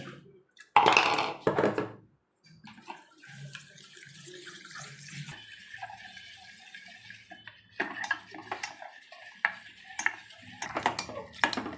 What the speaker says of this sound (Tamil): அடுப்பை சிம்மில் வச்சுட்டு கைவிடாமல் கலரணும்